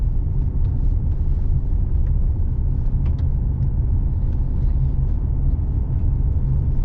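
A car drives a gravel mountain road between Kiger Gorge Overlook and East Rim Viewpoint on Steens Mountain, heard as a steady low interior road rumble and engine drone throughout, with no talking.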